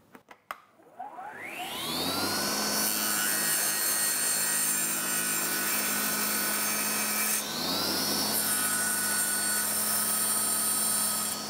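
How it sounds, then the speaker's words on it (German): A table saw spins up and cuts through wood, the blade's steady loud whine holding for several seconds, dipping briefly as the cut ends and then rising again for a second pass. "Wir nehmen jetzt die Tischkreissäge."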